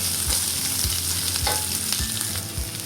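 Onion and chopped red chili sauté in a hot pan, a continuous bright sizzle broken by regular scraping stirs roughly every half second, close and fairly loud with no talking.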